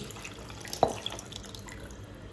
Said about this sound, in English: I'm going to add the remaining residue water.